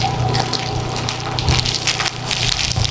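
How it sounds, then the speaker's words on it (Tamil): Heavy rain pours down outdoors at Mayiliddy as a steady, dense wash of noise that stays loud and even for the whole stretch, with no voices. "ஐயோ கொட்டி தீர்க்குதே மழை."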